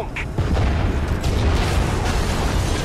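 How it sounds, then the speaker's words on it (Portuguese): Explosions rumble outside during play in the video game Gears of War Ultimate Edition, a dense, continuous low boom that runs from start to end with no talk over it. "Tá rolando umas explosões ali fora."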